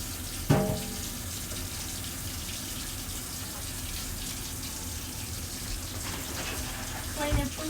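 Cold water running from a kitchen tap while fruits and vegetables are rinsed, a steady close gush broken by splashes and clatter, with faint voices in the background.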